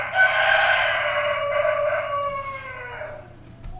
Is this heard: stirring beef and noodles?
no